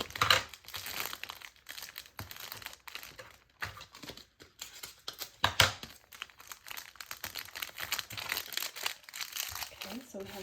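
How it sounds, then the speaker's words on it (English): Packing tape pulled and pressed to seal a shipping package, close crinkling and crackling rustle in bursts, with a person talking over it. "Tape that shut there."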